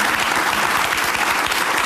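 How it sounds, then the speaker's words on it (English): Crowd clapping in steady, dense applause after a political speech, loud and continuous for a couple of seconds with no voices on top. "the crowd is applauding this"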